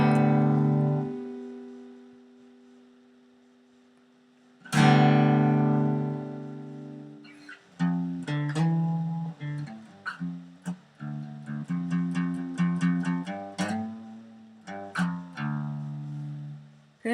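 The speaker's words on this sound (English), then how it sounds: "check the levels on my guitar coming through the mic" An acoustic guitar is picked up by a microphone for recording into GarageBand: a strummed chord rings out and decays, then another strong chord is followed by a run of plucked notes and chords, close and clean.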